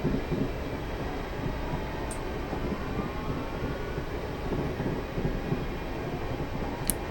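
Electric multiple unit train, a Class 450 on the Portsmouth Direct Line in Train Simulator 2020, running steadily with a continuous low rumble and rail noise at an even level throughout, plus a couple of faint high clicks.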